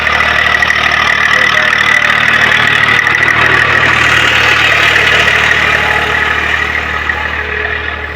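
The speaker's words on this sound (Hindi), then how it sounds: "ये देखिए ट्रैक्टर आने वाला है।" A tractor engine rumbles steadily in a wheat field, loud and close throughout, a continuous droning hum with no pauses and no voices.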